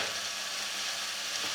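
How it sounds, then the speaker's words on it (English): Vegetable stock going into a pan of curried carrots for soup, giving a steady broadband sizzle and hiss that holds evenly throughout at moderate level, with no voices. "we're just going to add the vegetable stock"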